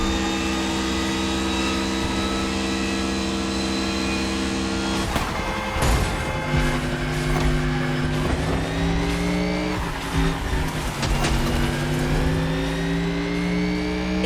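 Mercedes Vision EQ Silver Arrow racing on a long island course: a loud, close drivetrain whine climbs through several shifts, with sharp tire squeals and skids breaking in around the middle.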